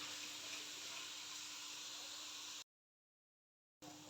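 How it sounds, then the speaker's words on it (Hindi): Chicken fries in a pan as a steady, even hiss of sizzling, faint and constant, broken by a sudden gap of silence before resuming. "अभी चिकन को अच्छे से फ्राई करेंगे।"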